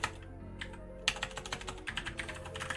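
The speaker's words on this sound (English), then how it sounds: "Gotta type out new project" Close-up typing on a computer keyboard: a sparse few keystrokes, then a quick, irregular run of clicks and taps with no voices.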